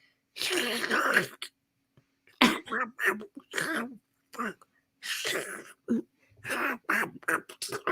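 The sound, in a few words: voice imitating Donald Duck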